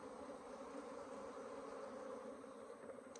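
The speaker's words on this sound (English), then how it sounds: "There's a lot of bees on the wall." Dense, steady buzzing of many honeybees on a hive wall during an inspection, a continuous droning hum close by with no pauses or voices.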